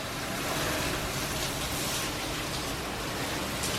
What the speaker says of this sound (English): So you'll see it push the door open as the winds gust.